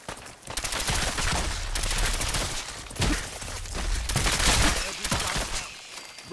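Rapid automatic gunfire in the video game Fallout 4, loud and close, with sustained bursts and short pauses between volleys.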